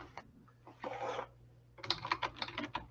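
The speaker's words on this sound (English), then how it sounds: "I'm going to mute real quick so you don't hear me typing furiously." Furious typing on a computer keyboard, heard as quick bursts of clicking keystrokes, one short flurry near the start and a dense, fairly close run in the last second, with a low steady hum underneath.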